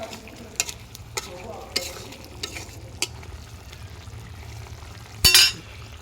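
Taki fish stir-fried in a pan, a low steady sizzle broken by regular sharp scrapes and clinks of a spatula against metal, then a brief louder burst near the end.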